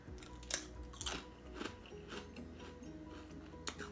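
Crunching on Herr's fire roasted sweet corn potato chips, several sharp, close crisp bites and chewing crackles scattered over a few seconds, with a low background hum and no talking.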